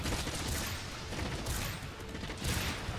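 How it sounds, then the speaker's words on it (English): Artillery barrage in Monster Hunter World: Iceborne, a dense, continuous roll of explosive booms and rumbling blasts filling the whole stretch with a louder surge near the end. "Artillery support!"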